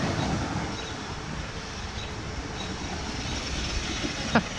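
RC Grave Digger monster truck with an aftermarket motor running, a steady high-pitched whine and broad roar throughout, fairly close, with a brief sharp click near the end.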